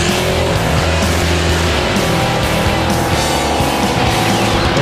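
A Corvette at full throttle roars down the strip at Great Lakes Dragaway, loud and continuous, with a dense engine and exhaust wash and no talk.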